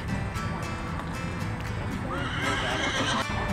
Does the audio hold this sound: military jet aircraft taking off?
no